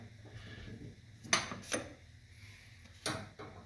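A wrench turns a loosened bolt on a C6 Corvette transmission, giving a few sharp metallic clicks and ratcheting ticks spaced over several seconds, close up and fairly quiet.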